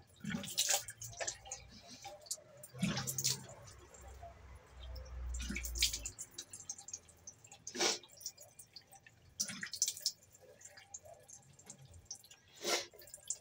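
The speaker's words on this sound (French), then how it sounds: "Je me rince vite fait." Running water while someone rinses off, splashing and dripping in uneven bursts with a low gurgle partway through, close and moderately quiet, no speech.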